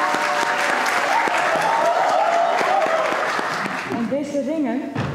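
Lively applause from a crowd at a December 5 celebration, dense clapping filling most of the span, with voices and a sung or exclaimed tone rising over it near the end.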